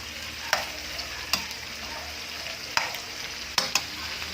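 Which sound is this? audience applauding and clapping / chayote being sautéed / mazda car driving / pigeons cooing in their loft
chayote being sautéed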